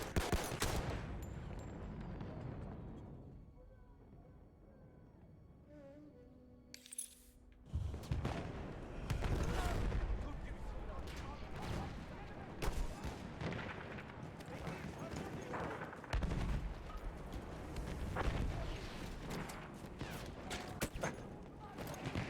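Battlefield 1 combat with sustained gunfire and booming blasts rolling on continuously, dense and loud, after a quieter opening stretch, with a voice talking over the battle.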